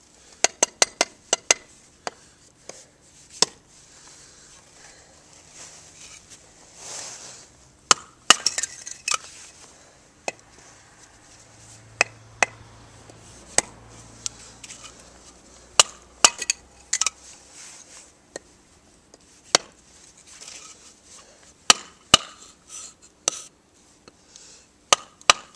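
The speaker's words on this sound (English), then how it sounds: "Let's take this big log, chop some wood with this knife." A survival knife chops into a big wood log outdoors in snow, giving a long irregular series of sharp, close chopping thwacks with short pauses between strikes.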